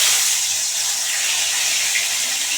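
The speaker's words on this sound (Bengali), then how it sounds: "এই যে দুটো তেজপাতা ফোড়নে দিয়ে দিচ্ছি" Bay leaves dropped into hot oil for tempering while cooking a kachori curry, giving a steady, loud hiss of sizzling that runs unbroken for under three seconds with no voice.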